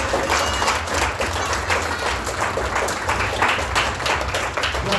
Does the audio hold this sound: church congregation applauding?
yes